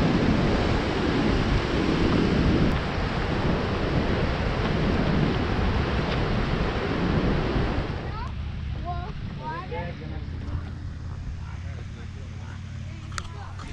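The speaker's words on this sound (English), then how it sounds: "Upper Falls, Yellowstone River," Dense, loud roar of the Upper Falls of the Yellowstone River pours steadily for about eight seconds, then gives way to a softer, more distant rush.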